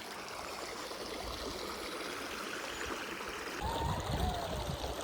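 A river stream flows steadily in Sequoia National Park, a close, continuous watery rush and trickle that swells slightly louder toward the end, with no talking.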